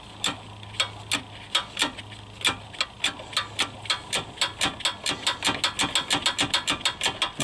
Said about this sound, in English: Take this bolt right here and tighten it up. I'm going to see if I can do it with my ratchet wrench instead of a socket